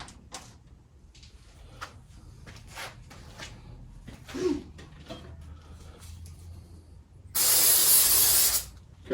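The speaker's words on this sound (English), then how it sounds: "Careful when you're putting the anti-seize on the ARP bolts. It gets everywhere quick." A short, loud aerosol spray hiss of anti-seize being applied to ARP bolts on a Cuda's A833 transmission, about a second and a half long after quiet workshop clicks and rustling.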